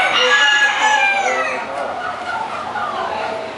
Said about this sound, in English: All different little birds.